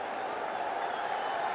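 Stadium crowd at a Pakistan vs New Zealand T20 cricket match, a steady broad roar of cheering that holds at even loudness throughout.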